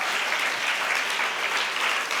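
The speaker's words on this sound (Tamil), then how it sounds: "கைத்தட்ட மாட்டீங்க?" An audience claps at a Teachers Day celebration, a dense even wash of applause that holds steady throughout the brief moment.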